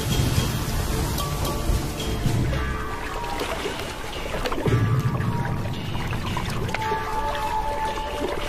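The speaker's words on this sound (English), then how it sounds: "First real rains for a year." Steady rain falls in the Namib Desert, the first real rains for a year, a continuous hiss of drops and pouring water at moderate loudness with no voices.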